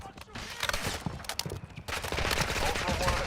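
Rapid gunfire bursts from a DMZ video game firefight, dense and loud, with a player's voice talking over the shots throughout.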